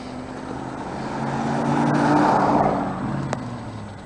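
A truck roars past on a Florida road, its engine noise swelling from a distance to a loud peak and fading away, heard from a motorcycle ride with steady wind and engine hum.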